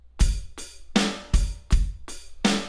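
Drum kit playing a rock groove of kick and snare hits with a flam fill, six sharp strikes in a steady uneven pattern, close and punchy with no voices.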